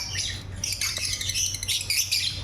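Personata lovebirds call from a cage with shrill, rapid squawks and chirps, several birds overlapping continuously at close range over a low background hum.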